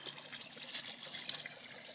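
Water rushes and trickles steadily around aquatic mint in a backyard pond on an early spring day in Canada, a continuous close bubbling wash with small splashy bursts and no voices.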